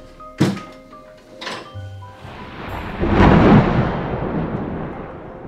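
A lightning strike sound effect from a cartoon: a sharp thunk and hit, then a loud rumbling thunder crash that swells and lingers at the end.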